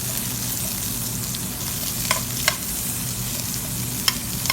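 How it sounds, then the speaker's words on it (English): Blanched asparagus sautéing in a pan, a steady bright sizzle with a low background hum and a few sharp pops and clicks of stirring toward the end, no talking. "We'll saute the asparagus like probably for 1 or 2 minutes until they look nice and tender."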